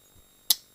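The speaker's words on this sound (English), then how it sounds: "take my safety off, pull my trigger, my bolt goes forward, comes back" M1 Carbine trigger pulled and bolt snapping forward: a single sharp, close metallic click, loud against near silence, following a faint soft tap.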